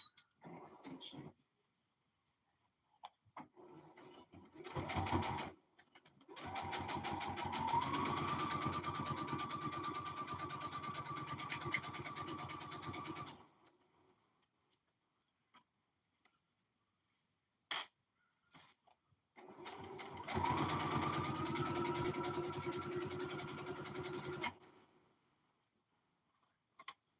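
A sewing machine runs in two sustained bursts of about seven and four seconds while back-stitching a skirt hem. Its close, steady whir is separated by a short start-up and quiet gaps with a few clicks.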